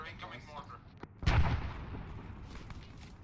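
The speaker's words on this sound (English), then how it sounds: "Incoming mortar, incoming mortar." An incoming mortar round lands in an Arma 3 combat mission, a single deep booming impact with a rumbling tail, preceded by a few faint distant thuds and followed by low battlefield ambience.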